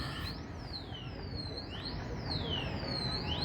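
A bank's alarm beeps and wails in repeated rising-and-falling sweeps like a car alarm, steady and moderately distant over a constant background rumble at a New Year's fireworks celebration.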